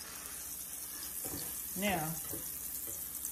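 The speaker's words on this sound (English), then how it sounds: "Y'all hear that sizzle? That's what you want to hear." Steady sizzling and frying hiss of butter in a hot pan as a grilled cheese sandwich fries, with a brief spoken word partway through over the sizzle.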